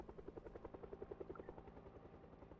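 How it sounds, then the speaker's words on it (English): A helicopter flyover event in the zombie survival game Project Zomboid comes through as a faint, distant rhythmic rotor chopping with a steady pulsing beat. "There's the helicopter."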